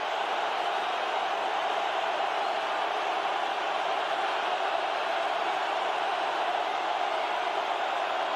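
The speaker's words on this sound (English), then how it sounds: "and this crowd on its feet" Stadium crowd at an NFL playoff game between Washington and Seattle roaring steadily as fans stand for a fourth-down play, a dense, constant wash of cheering noise with no breaks.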